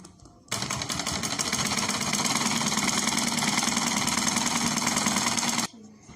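Electric sewing machine running steadily as a sleeve is stitched onto fabric for a stylish top, a continuous close-up motor whir holding for about five seconds between brief quiet gaps.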